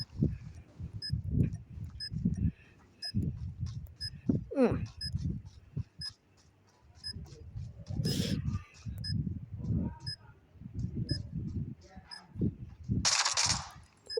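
Gunfire from the mobile shooter Call of Duty Mobile, sporadic shots and bursts scattered through the game's sound, with someone talking excitedly over nearly all of it.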